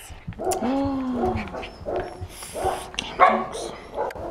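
A dog barks and yips a few times nearby, with whimpering tones mixed in and a person talking quietly between the sounds.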